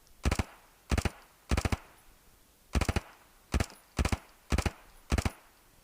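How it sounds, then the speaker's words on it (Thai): M4A1 rifle firing in the game Standoff 2 on a training range, eight sharp, close three-round bursts spaced about half a second to a second apart against quiet background. "ไปดู การยิงปืนนี้ดีกว่า"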